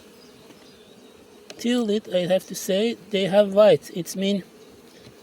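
Honeybees buzz steadily in the background at an opened hive during an early-spring check, low and continuous, with a person talking over them for most of the stretch.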